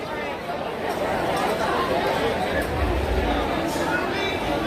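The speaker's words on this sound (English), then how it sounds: "We're going to have to go through this crowd." A dense crowd murmurs steadily at a busy theme park near the Hall of Presidents, a continuous wash of overlapping voices heard close around with a few nearer speakers.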